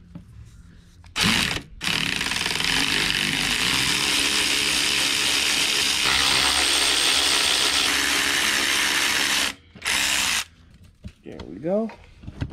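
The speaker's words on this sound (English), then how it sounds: "When you're using an electric ratchet, you always want to start the bolt manually" An electric ratchet whines loudly and continuously as it drives a bolt, with short pauses between bursts and the motor spinning down. Near the end a voice can be heard briefly.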